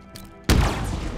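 A single loud gunshot-like blast from a gun in Halo Infinite multiplayer, Fiesta mode, hits abruptly after a quiet moment and then rings out into a sustained noisy decay.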